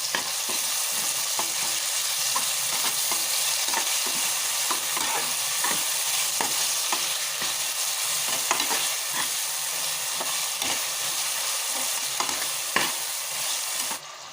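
Ginger garlic paste and tomatoes fry vigorously in hot oil, producing a loud, continuous sizzle with frequent crackles and the scrape of stirring throughout.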